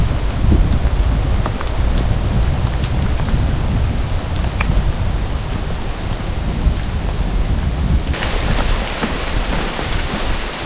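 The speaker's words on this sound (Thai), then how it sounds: "ตอนนี้นะทุกคนฝนก็ยังตกอยู่นะฮะ" Steady rain falls in a forest during a storm, a dense close hiss of drops on leaves and surfaces that runs without a break, with no talking.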